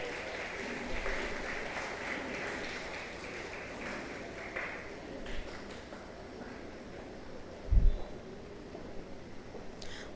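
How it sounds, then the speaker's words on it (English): Audience at an architecture college event applauds steadily at moderate volume through a large hall, the clapping sustained and fairly even with a couple of louder knocks partway through. "I request the audience to give a huge round of applause to our esteemed guests and speakers."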